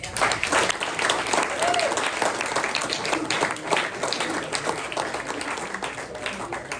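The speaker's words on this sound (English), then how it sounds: "So one more round of applause for Elliot." An audience at a press luncheon gives a sustained round of applause, dense and even clapping filling the room for several seconds before it slowly thins, with a voice faintly underneath.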